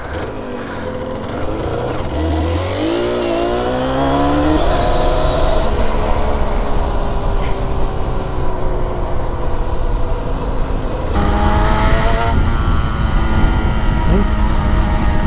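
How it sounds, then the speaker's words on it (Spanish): Kawasaki KR1S 250cc motorcycle engine on a test ride, a loud continuous rasping two-stroke drone that revs up and down through rising and falling pitch sweeps, close to the bike throughout with wind rumble underneath. "A ver si conseguís escuchar un poco el motor."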